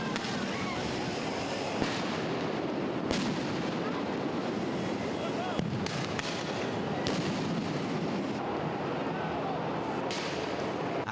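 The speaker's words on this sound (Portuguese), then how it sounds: "Tiros de bala de borracha, bombas de gás lacrimogênio." Rubber bullet shots and tear gas bombs at a street protest in São Paulo, a dense, loud, continuous din of blasts and crowd noise with a few sharper bangs standing out.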